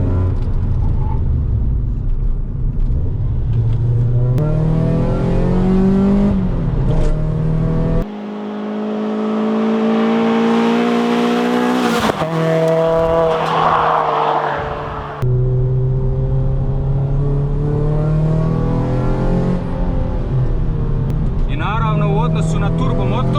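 A Ford Fiesta ST150 turbo engine climbs through revs and shifts gears while accelerating hard, loud and steady from inside, with a brief pause between pulls.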